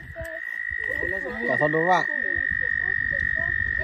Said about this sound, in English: A bunch of frogs.